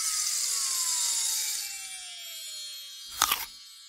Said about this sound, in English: It's the sound of someone taking a bite of an apple.